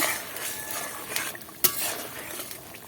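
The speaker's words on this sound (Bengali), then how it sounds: "মাছটা দিয়ে একটু নাড়িয়ে নেব" Fried bhola fish stirred into a simmering arum-stalk curry in a pan, a steady sizzle with soft scraping and one sharp clink of the spoon against metal.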